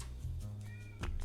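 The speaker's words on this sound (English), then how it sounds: "Max, why are you meowing still?" A cat meows close by over a low steady hum, with a short cry early on and a clearer meow near the end, and no talk.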